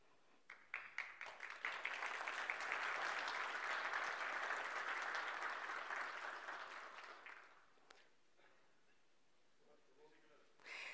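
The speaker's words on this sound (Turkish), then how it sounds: "Alkışlarla yerlerine uğurluyoruz." Audience applause for senior university rectors at a formal ceremony, starting with scattered claps that swell into sustained, dense clapping for several seconds before tapering off, followed by a short quiet gap and a brief final burst.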